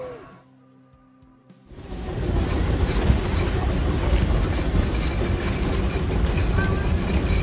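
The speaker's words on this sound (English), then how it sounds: "We're getting some more steam to power our locomotive." A steam locomotive on the Sugar Pine Railroad near Yosemite rolls along the rails, its rumble swelling in after a quiet start into a loud, continuous clatter that stays close.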